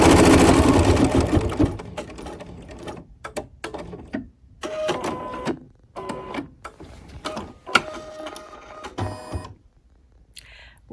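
Embroidery machine stitching a Swiss patrol pin cushion design in a hoop, a loud dense run of rapid needle strokes in the opening seconds, then stopping and starting in short choppy bursts with pauses between.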